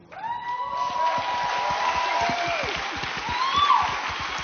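A conference audience applauds in a dense, sustained burst of clapping with cheering and whoops rising over it, and voices mixing into the crowd noise.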